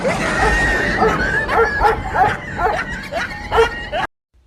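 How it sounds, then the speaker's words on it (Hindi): A dog barks at night in a run of sharp, yelping barks and whimpering yips, close and loud, repeating irregularly for about four seconds before stopping abruptly. "इंडिया में जब कोई रात को कुत्ता भौंकता है"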